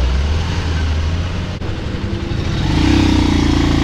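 A motorcycle engine labours loudly and steadily up a rough mountain road in Mustang, Nepal, with a continuous low drone that rises slightly in pitch near the end.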